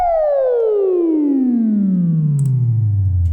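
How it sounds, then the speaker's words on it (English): A bright Korg Wavestate synthesizer tone sweeps steadily downward in pitch, rich in harmonics and washed in reverb, loud and continuous without any talking. "You hear it, you hear the effect that it's going up now from"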